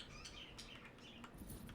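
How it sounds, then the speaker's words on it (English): Birds chirp and call through an echoing outdoor ambience in a video game, short tweets scattered over a steady background hiss, with no talking. "Like the birds and stuff that you can hear and the way they echo"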